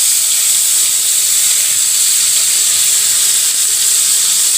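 Tomatoes frying in a pan give a continuous loud sizzling hiss that stays even from start to finish, with no voices.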